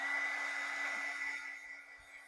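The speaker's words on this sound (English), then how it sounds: "Let me dry this real quick." Steady whirring blow of a heat tool drying watercolor on a stamped card, close and fairly loud, fading slightly toward the end.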